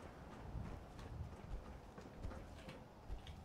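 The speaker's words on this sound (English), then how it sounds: "I still hear him stomping" Heavy footfalls of a character in a video game, a faint uneven thudding series of steps with soft irregular beats, distant and low in level.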